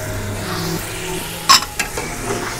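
A spoon scrapes and clinks in a pan over a steady low sizzle of tomatoes frying with turmeric and salt, with a couple of sharper knocks near the middle.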